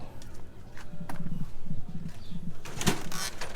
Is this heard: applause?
no